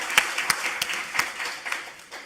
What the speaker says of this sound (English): I'd like to actually ask us to give a warm applause for UCLA.